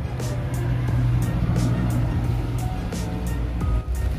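Inside a moving bus, a steady loud engine drone and road rumble carry on throughout, with faint rattles and no talk.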